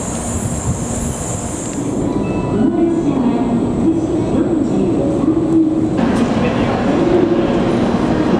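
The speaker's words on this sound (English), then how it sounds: "And this is our train." A Japanese bullet train pulls into a station with a steady, loud rolling rumble, a faint high whine from the wheels and rail noise, and background chatter on the platform.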